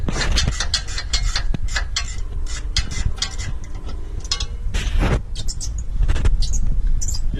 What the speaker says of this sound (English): Just rethreading the hole so clean out all the rust so we have better ground.